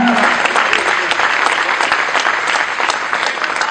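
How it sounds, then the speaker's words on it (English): An audience at a stage event gives a loud, dense round of applause that carries on without a break, with no voices heard over it. "Big round of applause to him too, a pillar of support for ma'am."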